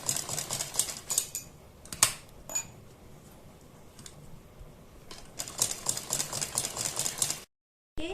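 A sewing machine stitches piping around a garment neckline, running in bursts of rapid mechanical clatter separated by quieter pauses, close and fairly soft, then cutting out abruptly near the end.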